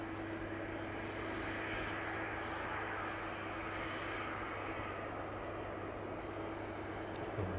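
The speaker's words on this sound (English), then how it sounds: "West Atlantic 737 then landing into East Midlands this evening on runway 27" A West Atlantic Boeing 737 lands on runway 27 at East Midlands Airport in the evening, its engines a steady, broad, distant roar with a low hum that holds evenly throughout, no voices.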